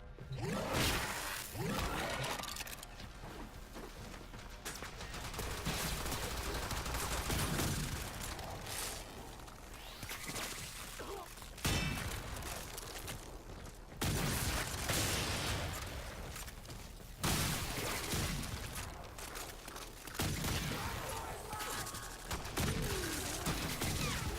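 Twin Roga secondary weapon firing in the video game Warframe, heard as repeated loud, close bursts of harsh blasts and clattering impacts in rapid clusters, separated by brief pauses, across a long fight.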